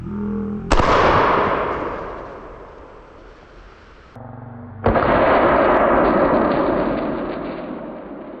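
A flare gun fires twice at a dummy human head, each shot a sharp loud bang followed by a long hissing, crackling burn that slowly fades, the second blast landing about four seconds after the first.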